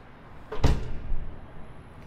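An emergency exit door opening, a single sharp thud or clunk followed by a fading rumble of movement, fairly close and alone.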